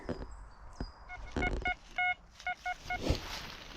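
A series of short, clear electronic beeps from an XP Deus metal detector giving an ID 80 signal sounds in an uneven rhythm close by, amid rustling and faint handling noise outdoors in a forest.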